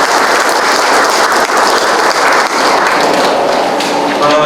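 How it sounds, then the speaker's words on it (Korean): Loud, sustained applause from a policy forum audience in a hall, dense clapping from many people continuing evenly with no break. "발표에 수고해주신 정진김 교수님께 다시 한번 큰 박수 부탁드리겠습니다"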